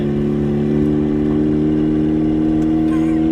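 Turbocharged Mazda Miata engine held at steady revs with a loud, continuous droning hum and slight roughness, a little stumble near the end; close and sustained, no talk.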